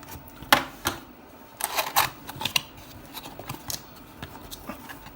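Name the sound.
cutting open the packaging seal of a speaker box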